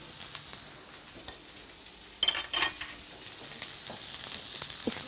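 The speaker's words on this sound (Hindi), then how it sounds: "बैंगन आपको पता है वैसे ही बहुत जल्दी पकते हैं। ठीक है, ये यहाँ पे फ्राई हो रहे हैं" Eggplant pieces sizzle and crackle steadily in oil in a frying pan while cooking for tahari in a kitchen, with a few brief louder spits and stirring clinks, and no talking.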